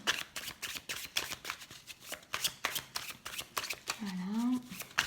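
Tarot cards are shuffled by hand in a quick, steady rhythm of riffling flutters and soft taps, close and clear. A brief voiced murmur rises near the end.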